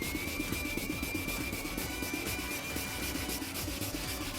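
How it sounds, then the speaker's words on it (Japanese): Wet sanding of a yellowed car headlight lens by hand, a steady rhythmic scrubbing rasp with quick repeated strokes, close and continuous with no voices. "こんな感じで研磨をしていくと、黄ばんでいるヘッドライトの場合は黄色から白っぽくどんどん変わっていきます。"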